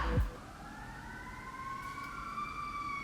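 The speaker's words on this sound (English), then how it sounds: "there's a siren going" Siren wailing outdoors, its rising and falling tone steady and moderately distant across the whole stretch, with a brief thump at the start.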